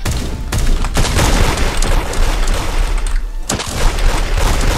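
Video game gunshots fire in rapid, loud bursts with a few heavier booming hits punctuating the steady stream, close and continuous throughout, no speech.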